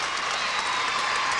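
Arena crowd at the 1997 World Professional Gymnastics Championships applauds a floor routine, a dense, even roar of clapping that holds loud and steady the whole time.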